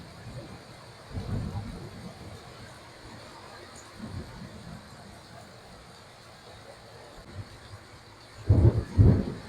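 Low rumbles of thunder roll in over a steady hiss of rain, with faint bursts early on and a loud, close crash near the end.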